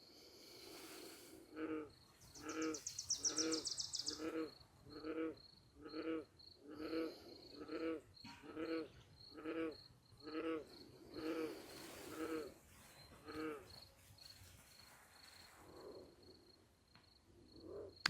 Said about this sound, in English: Two frogs talking to each other.